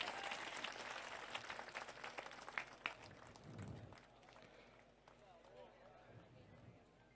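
A crowd at a Koli community mass convention in Vinchhiya applauds to welcome the saint Rishi Bharati Bapu; dense, steady clapping fills the hall, loudest early and then thinning, mixed with crowd noise.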